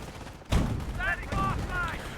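Friendly gunfire in a Company of Heroes 1 match: one sharp burst of shots, followed by a continuing rattle of fire and mixed with a brief voice.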